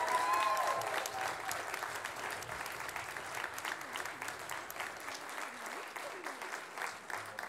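A graduation ceremony audience gives the Go Foundation graduates a further round of applause, steady crowd clapping heard faintly from a distance, with voices and indistinct talk under it.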